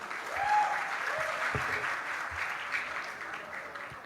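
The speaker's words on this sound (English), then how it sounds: "Huge round of applause to Mr. Arun Lal Joshi." Steady applause from a graduation ceremony audience for a student excellence award presenter, a soft, even wash of many hands clapping at moderate distance, with a faint voice briefly audible.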